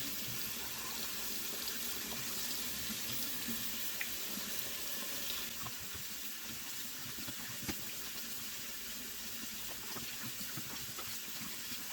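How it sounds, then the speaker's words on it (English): Warm water running steadily from a kitchen tap into a sink while vegetables are washed, a constant close hiss and splash with occasional small clinks, no talking. "I've set my tap on warm water."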